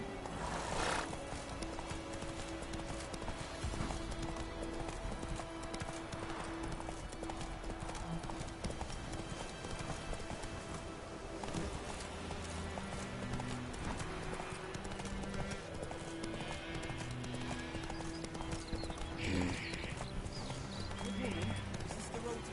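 Roach the horse in The Witcher 3 game gallops with steady, rhythmic hoof clip-clops close by, with a whinny breaking through and a voice speaking over the hooves.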